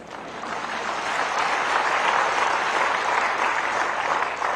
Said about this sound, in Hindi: कुछ लोगों ने अभी भी ताली नहीं बजाई।